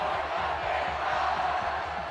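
A large crowd of fans on a town's main square cheering Goran Dragić and the EuroBasket champions, a continuous dense roar of voices at steady volume.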